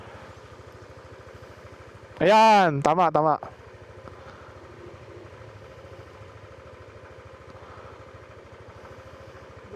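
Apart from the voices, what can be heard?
motorcycle engine running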